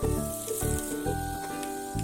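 Hot oil sizzles steadily with rapid crackling pops as mustard seeds splutter in a pan, close and fairly loud with no talking.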